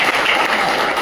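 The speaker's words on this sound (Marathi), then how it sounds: "जरा टाळ्या वाजवा" Audience applause at a parents' felicitation ceremony, a dense, steady wash of clapping that fills the whole moment at close, loud level, with no voices.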